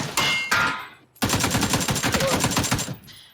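Gunfire in the video game PUBG: a short single burst, then a longer rapid automatic volley of sharp, loud shots fired close by.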